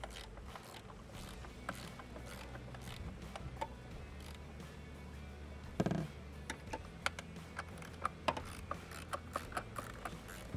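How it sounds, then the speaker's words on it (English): A hand ratchet crank snugs down nuts on an intake bracket of a Nissan Frontier, giving quiet, irregular clicking and tapping at close range with some metallic knocks, faint overall. "Use a crank on these."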